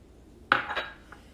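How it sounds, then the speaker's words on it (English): A spoon stirs warm milk with melted butter and yeast in a bowl, giving one sharp clink followed by a short clatter of scraping and knocking, then a faint final tap in a quiet kitchen. "Again, stir it nicely."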